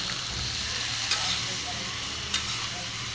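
Beans, potato and eggplant with spices stir-fry in a pan with a steady, close sizzle, broken by two brief scraping clicks from a spatula.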